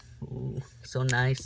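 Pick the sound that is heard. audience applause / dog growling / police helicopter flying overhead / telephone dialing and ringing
dog growling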